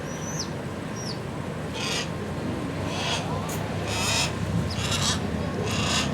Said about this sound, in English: This is a Harris hawk.